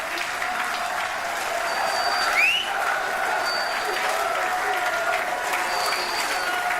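The Crucible crowd at the 2023 World Snooker Championship applauds Luca Brecel's victory over Mark Selby, a steady, dense roll of clapping from a large audience.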